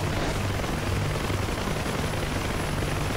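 A UH-1H helicopter hovering before a vertical landing in the DCS flight simulator, a loud, dense, continuous rotor and turbine roar with a steady low beating thump, close and unbroken.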